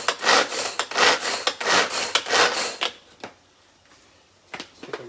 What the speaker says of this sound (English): just go here and chop these leaves.